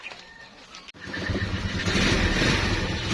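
A motorcycle engine catching after a brief pause, then settling into a steady, close idle that grows slightly louder and rougher, with no talk over it.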